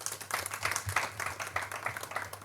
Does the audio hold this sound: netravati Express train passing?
no